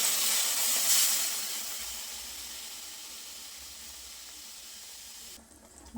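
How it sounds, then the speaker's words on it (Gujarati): Water poured into a pan of frying spiced potatoes for a garlicky Gujarati potato curry, giving a loud burst of steamy hiss near the start that settles into a steady, softer sizzle. "થોડું પાણી ઉમેરી દઈશું"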